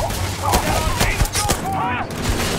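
Rapid bursts of gunfire in the space video game Starfield during a fight with pirates, loud and close, with sharp overlapping shots and electronic whooshing effects.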